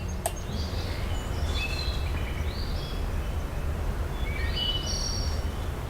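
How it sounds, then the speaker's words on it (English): Royalty-free nature ambience from a RWBY video game menu: several bird trills and chirps flit in and out over a steady low hiss, fairly faint and spread across the scene, with no talking. "I assume that must be some publicly available, royalty-free nature sound effect, that, of those birds trilling"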